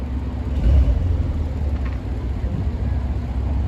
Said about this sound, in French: Le bruit du flat 6, les amis.